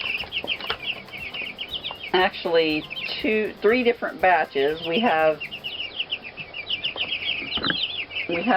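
Chickens cluck and chirp close by throughout, with a person talking over them in the middle.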